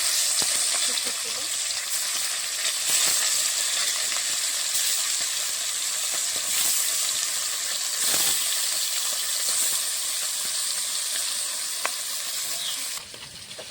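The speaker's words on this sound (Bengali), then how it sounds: "এখানে মাছটা ভাজা হচ্ছে" Bata fish frying in hot oil, a loud steady sizzle and crackle close by, with occasional faint clinks, easing slightly at the end.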